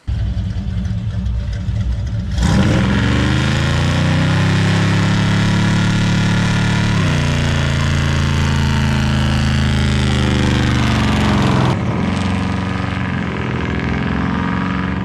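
A big-block Lightning truck engine runs loud and close on a test drive, its steady drone rising and falling as it revs through gears, with a sharp shift near the end and no talking.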